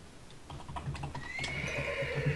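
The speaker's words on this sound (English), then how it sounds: "I have no idea if this sounds like a horse or not" A horse neighing effect, a rising then trailing whinny, plays fairly close over soft clip-clop hoof taps and light ticking, with no voices.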